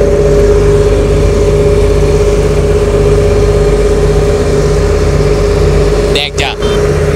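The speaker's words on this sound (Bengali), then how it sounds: "দেখ যা, ওইটা হচ্ছে ইঞ্জিন।" The engine of a river ferry runs at a loud, steady drone with a constant low hum and throb close by. A couple of brief knocks near the end break through the unbroken mechanical noise.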